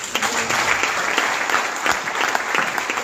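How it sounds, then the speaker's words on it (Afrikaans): A church congregation claps hands together at a ministry conference, dense steady applause rising and falling over three seconds with no voices heard. "Kan ons ons beste regte hande klap gee."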